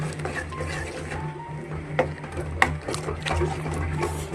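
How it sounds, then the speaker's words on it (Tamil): A spoon stirs small onion thokku in a pan. The stirring makes soft, continuous scraping and light clinks with a few sharper taps, over a steady low hum. "இப்போ எல்லாத்தையும் சேர்த்து நம்ம ஒரு கிளறு கிளறிப்போம்"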